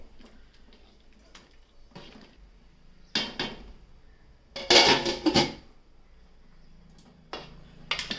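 Rice being stirred into mutton biryani in a pot brings close scraping and clinking of a spoon against metal, quiet at first and then in louder, busier bursts.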